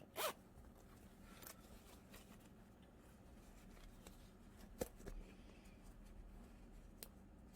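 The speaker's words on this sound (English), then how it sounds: "come around and bring out the zipper" Faint, quick rasps of a zipper being pulled on a fabric bag, a few short strokes spread out over quiet rustling.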